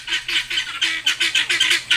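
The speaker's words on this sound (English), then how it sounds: "We also got these guineas because supposedly they protect the animals by making these sounds." Guinea fowl call in a rapid series of harsh, repeated squawks, loud and close, with a choppy rhythm.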